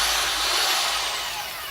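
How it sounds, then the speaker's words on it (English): Continuous whirring drone of a Craftsman drill spinning a plaster mixing bit through ceramic glaze, loud and close with a steady high whine throughout and no speech. "this is just a Craftsman drill with a plaster mixing bit on the bottom"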